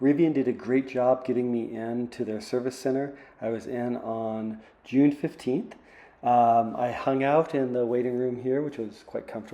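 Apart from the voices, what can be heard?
None of the usual background noises is heard.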